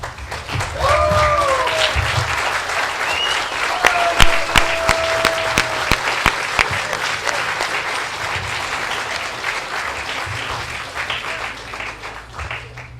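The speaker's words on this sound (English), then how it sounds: "can we all stand and give a round of applause to the Heart of Texas Veterans One Stop?" A standing audience at a veterans center reopening ceremony gives loud, sustained applause, a thick roar of clapping with brief whistles and cheers early on and sharper individual claps as it thins toward the end.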